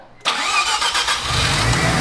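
A Mazda RX7 rotary engine, a barn-find car, cranks and catches abruptly after a brief quiet moment, then settles into a loud, steady idle close by with no talking.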